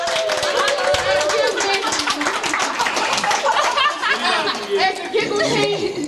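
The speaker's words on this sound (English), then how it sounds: "Give them a round of applause." Applause and chatter from an open mic audience for backup dancers, dense clapping mixed with voices and a little laughter, loud and continuous throughout.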